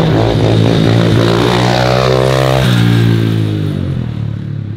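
A 125cc motocross dirt bike engine running loud and close, revving up with a rising buzzy whine, then dropping back to a rough, throbbing idle.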